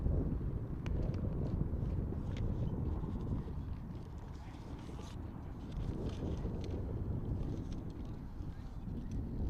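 Wind buffeting a microphone at an outdoor high school baseball field in Hornell on a warm, windy day, a constant low roar with faint ballpark sounds underneath.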